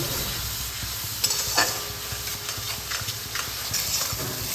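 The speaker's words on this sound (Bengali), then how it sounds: "আর সামান্য জল দিয়ে আমি এটাকে কষিয়ে নেব। মশলাটাকে ভালোভাবে কষিয়ে নেব।" Spice paste with slit green chillies and a splash of water fries in a pan, giving a constant loud sizzle and hiss with occasional scraping stirs of a spoon, close and with no voices.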